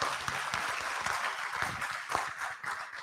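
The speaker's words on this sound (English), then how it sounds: "Ladies and gentlemen, a big round of applause to our Honorable Minister of State." Audience applause at the close of a regional conference on land and conflict in East Africa and the Horn, a dense steady patter of many hands for a few seconds, fairly distant and even.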